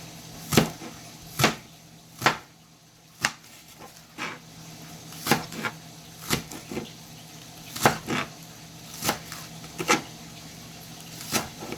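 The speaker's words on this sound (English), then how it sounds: "Chop them down." A knife chops vegetables on a cutting board, sharp distinct thuds coming at an uneven pace, about a dozen in all, close by with no talking.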